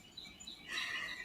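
Pet birds kept indoors chirping, a quiet but steady run of high twittering calls that swells into a denser burst of chirps midway, with no voices alongside.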